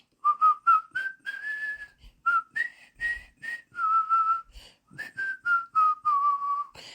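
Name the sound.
person whistling a theme song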